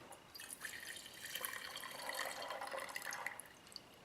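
Old, moisture-contaminated gas draining from a string trimmer fuel tank, a steady thin stream pattering and dripping into a container, close and quiet, alone with no voices.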